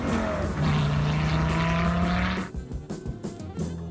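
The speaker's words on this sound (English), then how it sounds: "where it appears he turned up simply to launch his car off the line" A Dodge Viper launches hard off the line at an autocross, its engine roaring loud and close with rising revs and tire squeal. The roar cuts off abruptly, leaving a rougher, fading engine rumble.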